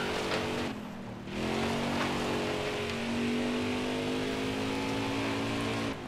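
A stock car engine in the video game NASCAR Heat 4, a loud sustained whine that dips briefly with a gear change and then climbs steadily in pitch.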